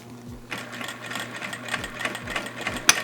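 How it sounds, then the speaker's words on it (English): A Vevor industrial sewing machine back stitching, its rapid rhythmic needle clatter running in short bursts over a steady low motor hum, close and fairly loud. "Alright, time to back stitch it."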